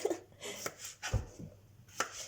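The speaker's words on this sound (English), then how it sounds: "top and tail your courgettes" A knife chops courgettes on a board with several quiet, uneven strokes, soft thuds mixed with sharper taps and some faint kitchen clatter.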